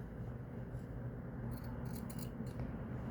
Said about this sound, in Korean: 여기 하시면서 2, 3cm만 남기고 이렇게 잘라주세요